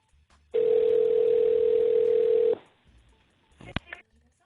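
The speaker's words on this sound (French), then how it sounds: "Bon allez, on appelle une deuxième fois chez la personne." A single steady telephone tone sounds for about two seconds while a call is placed, then cuts off, followed by a few faint clicks and a short crackle on the line.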